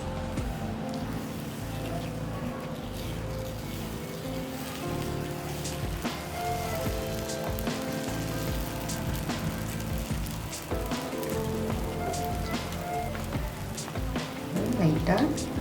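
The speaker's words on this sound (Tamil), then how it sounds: "இது கூட நம்ம கரைச்சி வச்சுருந்த மாவை கரண்டி எடுத்து" Dosa batter for kaara dosai, ladled onto a hot pan, sizzles and crackles in a steady, close frying hiss, with a voice speaking over it.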